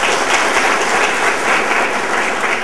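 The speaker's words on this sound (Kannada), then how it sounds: "ಜನ ಚಪ್ಪಳ ತಟ್ಟಿ ಥ್ಯಾಂಕ್ಸ್ ಹೇಳ್ತೀನಿ" An audience at an educational foundation programme breaks into steady, loud applause, a dense wash of many hands clapping together that continues without a break.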